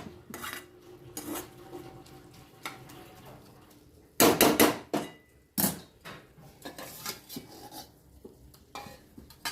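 Cooking vessels clank and scrape while a broad-bean fry is made, with sharp metallic knocks and a loud cluster of clatters midway, then lighter intermittent handling, with no talking.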